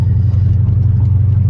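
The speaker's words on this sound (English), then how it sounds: "The car's been running really crappy, just like right now, being light throttled, 1500 RPM, doing about 45." A car engine running rough at light throttle around 1500 RPM while driving at about 45 gives a loud, steady low rumble with a faint pulsing throb and no talk.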